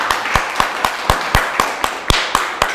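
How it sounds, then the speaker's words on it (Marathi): An audience in a classroom-style gathering claps in rhythmic unison, about a dozen sharp, evenly spaced claps, loud and close with no talking over them. "टाळ्या वाजवा."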